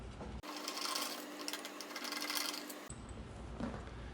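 A power driver whirs steadily for about two and a half seconds, backing screws out of the console of a Baja Bandit go-kart, with close handling clatter before and after.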